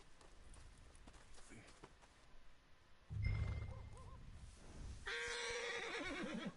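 A horse at a stable in Red Dead Redemption 2 whinnies loudly, and its hooves clop in the background while a voice talks.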